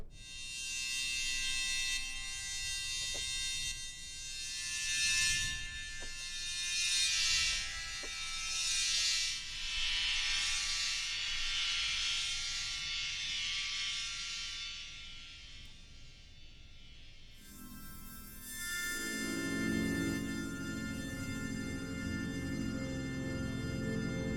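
A sampled Portuguese bowed string instrument from a bowed guitar library drones in a sustained, buzzy tone that swells and fades, then shifts to a lower, darker register toward the end.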